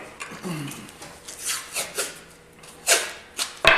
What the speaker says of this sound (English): Now we're going to take some tape, come in here and tape out our neck pocket.